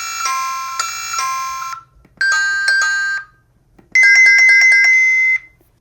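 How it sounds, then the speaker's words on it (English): Several different melodies from a Youkey plug-in video doorbell chime, each a short loud electronic tune of rapid bright notes, three separate bursts with brief silences between, close and clear with no voices. "you can change the sound that plays by pressing this button here"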